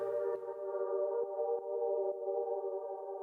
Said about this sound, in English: It's from the humpback whale.